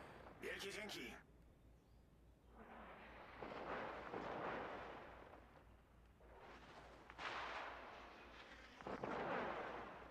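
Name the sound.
naval gunfire from ship barrels in video game World of Warships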